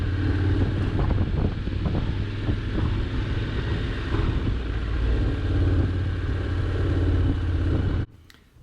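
A Honda X-ADV 750 motorcycle rolls slowly over gravel off-road, its engine a steady, close low rumble under wind buffeting, cutting out abruptly near the end.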